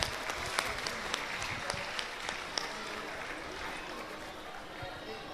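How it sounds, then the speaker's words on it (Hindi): Audience applause honoring scholars at a Jain religious discourse gathering, a thin scatter of distinct claps over a faint crowd murmur, more frequent at first and thinning toward the end. "एक बार सभी विद्वानों के सम्मान में जोरदार तालियां बजाएं"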